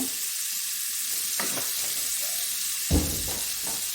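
Oil sizzles in a pan while Saudi kabsa cooks, a steady close hiss broken by a few short stirring scrapes and clatters.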